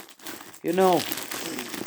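Crinkly plastic wrapping of a taped-up Temu parcel being cut open with scissors rustles and crunches steadily at close range, with a brief voice sounding partway through.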